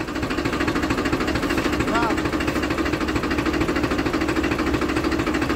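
A tractor engine runs on a farm with a steady, loud, throbbing rumble that never lets up, while voices talk over it.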